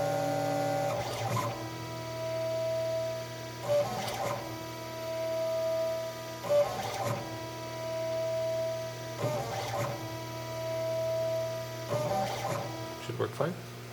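A CNC machine runs an air-cutting pass with no spindle turning, its stepper motors whirring in repeated short bursts over a steady mains hum while a person talks nearby.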